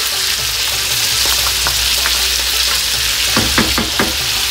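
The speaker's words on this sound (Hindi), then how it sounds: "और इसके अंदर गार्लिक और जिंजर का पेस्ट भी मैं ऐड कर रही हूँ।" Garlic and ginger paste fries in a pan for Peshawari chicken, a loud broad crackling sizzle that runs throughout, punctuated by quick clattering scrapes of a spoon stirring, close by.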